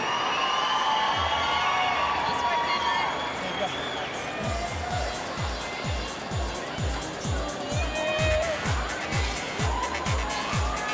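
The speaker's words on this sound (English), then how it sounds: "Keep the applause going for all these gentlemen." Crowd at a strength competition event cheers and shouts for the winner, with a busy, loud roar throughout and a rapid rhythmic thumping pulse joining partway through.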